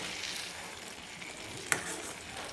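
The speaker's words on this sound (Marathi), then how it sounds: "याच्यामध्ये कोथिंबीर टाकून घेऊ आणि छान मिक्स करून घेऊ याला" Coriander being stirred into cooked dal, a faint, steady simmering hiss with one brief clink of a spoon against the pot.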